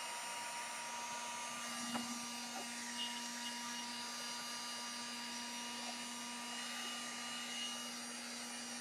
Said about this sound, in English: your heat on your heat gun might not be turned up enough